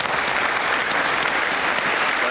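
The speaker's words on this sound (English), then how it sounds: "I think that response deserves a round of applause." Steady audience applause fills a panel discussion hall, a dense continuous wash of clapping with no pauses, close and loud throughout.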